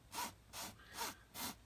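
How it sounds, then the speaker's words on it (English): Seat upholstery fabric scraped with a tool to gather loose fibers for a hole repair: four rhythmic rasping strokes, close and moderately quiet, with no voices. "we just scrape in many different places till we get fibers"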